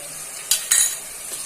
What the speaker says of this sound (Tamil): போட்டு நல்லா கிண்டி விடணும்.